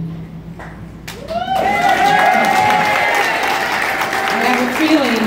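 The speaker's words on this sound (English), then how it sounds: "I have a feeling there's going to be a few more rounds of applause, Betty" An audience at a summer celebration gathering breaks into sustained applause for honoree Betty Neeley after a brief quiet start, with a steady wash of clapping and some voices mixed in.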